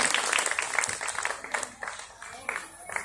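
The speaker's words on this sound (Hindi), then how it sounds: "तो एक बार जोरदार तालियों के साथ" A crowd claps in scattered, uneven bursts at a ceremony, the applause moderately loud and mixed with some background voices.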